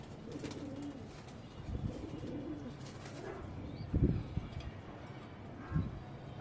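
Pigeons kept in a cage coo in low, soft, rolling calls throughout, with a couple of louder, closer coos standing out over the steady background.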